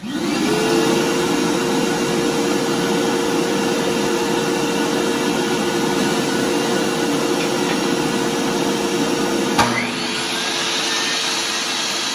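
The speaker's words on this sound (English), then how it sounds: "I'm going to start the vacuum for dust collection" A shop vacuum runs for dust collection at a woodworking bench while a damaged shelf is repaired, a loud steady close whine and roar that drops in pitch and volume near the end as it winds down.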